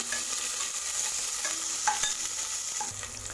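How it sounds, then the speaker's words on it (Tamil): Long-cut sliced onions sautéing in a pan for masala rice make a continuous close sizzle with frequent scraping stir strokes from a spoon, and no voices. "சேர்த்துட்டு வெங்காயத்தை நல்லா வதக்கி விட்டுக்கோங்க"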